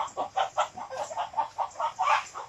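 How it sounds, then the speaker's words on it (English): A chicken clucks in a rapid, steady series of about a dozen close, moderately loud calls, alone with no talking. "oh, poor chicken."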